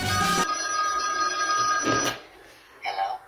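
A Simpsons toy telephone rings with a bright electronic trill in a loud burst, then another shorter ring after a pause, followed by a faint chirp near the end.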